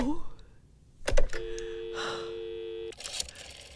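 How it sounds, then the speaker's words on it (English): A telephone number being dialed straight through on a landline: a sharp click and a short burst, then a steady electronic tone held for about a second and a half before cutting off, with a voice briefly at the start. "You may dial that number direct."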